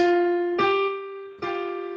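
A major second interval rings out as clear, sustained pitched notes from a harmonic instrument, struck three times in succession, each one decaying smoothly before the next.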